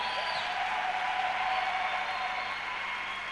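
A church congregation applauds Jesus together, a steady, sustained wash of clapping from many hands that holds evenly throughout and tapers slightly at the end, with no talk over it.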